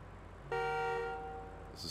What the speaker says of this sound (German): Das ist Hupen.